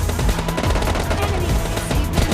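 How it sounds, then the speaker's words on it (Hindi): Continuous, loud automatic gunfire rattles through a PUBG Mobile Lite squad fight, with rapid shots packed closely together for the whole stretch and no talking. "मैं इसे फायर कर रहा हूँ"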